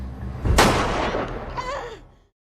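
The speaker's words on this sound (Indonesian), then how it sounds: "Dimulai dari menembak tangan Carol." A single loud gunshot with a sharp attack and a long fading tail, heard during a dramatic zombie-apocalypse scene, with a faint voice underneath.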